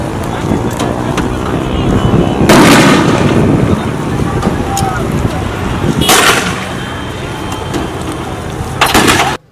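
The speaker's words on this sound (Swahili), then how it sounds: "madereva bodaboda na askari katika majibizano ya risasi, lakini pia majibizano ya kurushiana mawe yakiendelea katika eneo hili la Mwanga" Gunfire in an exchange between motorcycle taxi riders and police during a clash in Mwanga: three loud, sharp bursts spaced a few seconds apart cut through a constant noisy crowd and street din.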